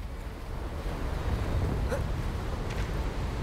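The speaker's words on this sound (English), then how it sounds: "The wind. The waterfall" Steady wind and rushing waterfall water in the fantasy game Hogwarts Legacy form a constant broadband roar, close and even throughout, with a couple of faint high chirps but no talking.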